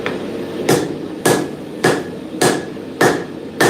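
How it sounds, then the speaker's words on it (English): Six evenly spaced, loud hammer blows ring out alone at a blacksmith's forge as a knife is forged, each strike sharp and metallic with a brief ringing decay. "It's a Bob hammer."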